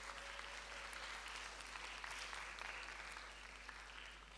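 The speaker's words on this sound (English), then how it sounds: "Everybody give a round of applause." An audience applauds at a leadership conference, steady clapping from a crowd in a hall that holds evenly for several seconds and then starts to fade.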